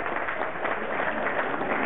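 A crowd at the 30th Oktoberfest in Löhne applauds to welcome brewery owner Christoph Barre. The clapping is dense, steady and continuous, close and fairly loud, with no voices on top.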